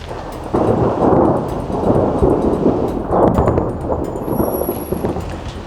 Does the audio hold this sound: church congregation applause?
no